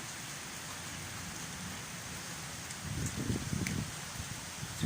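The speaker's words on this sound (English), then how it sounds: "Oh, it's starting to rain again." Rain falls steadily during a thunderstorm in Santa Ponsa as a soft, even hiss, swelling into a heavier, closer patter near the end, with no voices heard.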